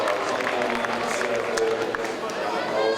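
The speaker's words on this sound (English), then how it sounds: "Applause for Rebecca Stutz" Crowd applause and cheering at a bouldering semi-final of the IFSC Climbing World Cup in Grindelwald, 2014, a steady wash of clapping and chatter heard under an announcer's voice.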